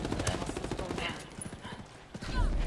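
Rapid bursts of gunfire in a Ghost Recon Wildlands Ghost War PvP match, close and sharp, crackling over a continuous bed of game noise and voices.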